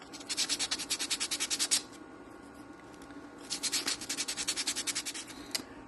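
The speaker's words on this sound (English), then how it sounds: "120 grit because the 320 was just not cutting it. It's too fine, so this 120 grit is taking it off better" Old glue is sanded off a violin neck with 120 grit sandpaper in two bursts of quick, rhythmic back-and-forth rasping strokes, close up, separated by a short pause.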